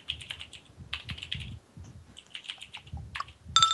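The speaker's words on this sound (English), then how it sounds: "Wow, that's a lot of typing." Rapid typing on a computer keyboard during a tabletop role-playing session, bursts of close, crisp key clicks with brief pauses, ending in a sharper clack.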